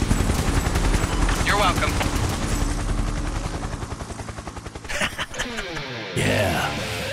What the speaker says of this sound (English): Let's get our birds involved. Call for a Gatling raid now. Incoming airstrike.